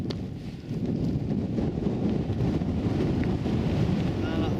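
Steady wind gusts buffet the microphone outdoors in Coppermine Valley near Coniston, a dense low roar that holds close and loud throughout with no clear speech.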